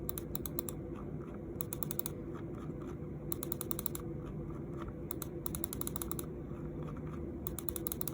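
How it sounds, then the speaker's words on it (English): A Keychron M3 Mini 4K mouse scroll wheel, with an F-switch 11mm encoder, clicks in quick ratcheting runs alongside its main button clicks: close, crisp, evenly spaced ticks in repeated bursts over faint background hiss. "let's talk about the scroll wheel and the scroll wheel click"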